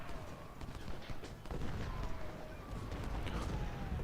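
Union siege artillery and rifle fire in Ultimate General: Civil War, a distant, muffled crackle of scattered shots and booms layered over a continuous battlefield din, with no clear single blasts standing out.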